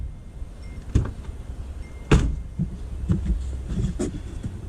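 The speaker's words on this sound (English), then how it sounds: "Door is easy to open." Front door of a P80 Volvo S70 being opened, with a sharp latch click followed by a louder clunk a second later and faint handling rustles, close and without talk.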